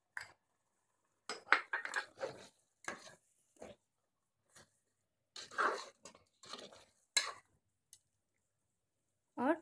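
Spoon scrapes and clinks against a cooking pot while salt is mixed into a dal chicken curry, a series of short, separate, close clacks with quiet gaps between them.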